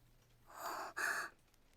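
An anime character breathes heavily, two drawn-out breaths in quick succession, quiet and close, with no other sounds around them.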